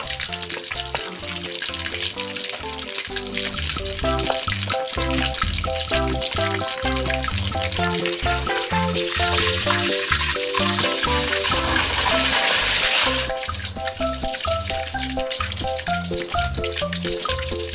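Fish fries in hot oil in a pan with a loud, dense, continuous sizzle and crackle, swelling into a brighter hiss midway through, with no voices.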